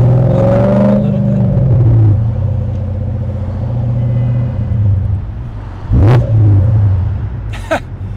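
BMW E39 M5 V8 engine held at about 2,000 RPM, a loud steady deep rumble heard close up with a throttle blip and brief revving near the end, no talking.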